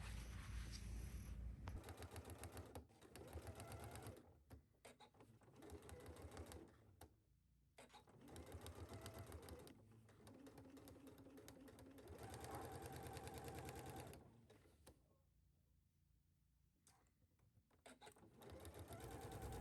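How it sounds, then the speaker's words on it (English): A sewing machine stitches dart legs down on a garment in bursts of rapid, loud mechanical chatter. Brief pauses come between the runs, and a longer quiet stretch falls near the end. "take this to your sewing machine and sew your dart legs down."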